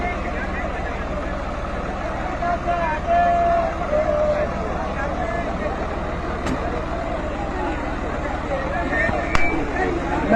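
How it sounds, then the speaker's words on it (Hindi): Tractor climbing onto a helipad amid a crowd of farmers, a steady low diesel chug beneath crowd chatter and a person speaking, with occasional sharp knocks. "ये देखिए, हेलीपैड पर ट्रैक्टर चढ़ रहा है।"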